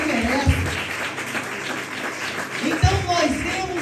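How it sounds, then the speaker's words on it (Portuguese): A church congregation applauds, a steady wash of clapping under a preacher's voice that carries on over it. "Pode aplaudir, não pode dar palma para Jesus, porque ele merece"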